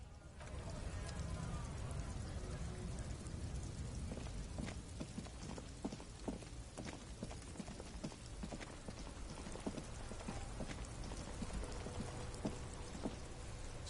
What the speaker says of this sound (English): Stuck in the rain in a traffic jam, man.